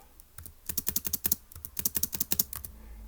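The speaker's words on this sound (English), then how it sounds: "Let's quickly type that up." Rapid typing on a computer keyboard, a quick burst of about twenty close, crisp keystrokes in uneven clusters, with no voices.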